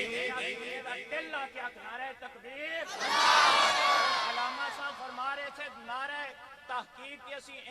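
A crowd at a khatam e chilam religious gathering roars a naara-e-takbeer slogan in one loud swell lasting a second or two, set between stretches of a man's amplified, sing-song speech.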